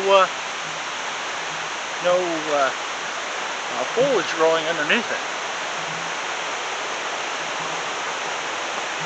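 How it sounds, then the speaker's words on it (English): A river below a hillside flows with foam, a steady broadband rushing of water heard throughout, while someone talks briefly over it at intervals. "You see the river down there"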